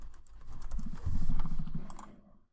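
Typing on a computer keyboard while entering text into a spreadsheet, a quick run of soft clicking keystrokes close by, lasting about two seconds before fading out.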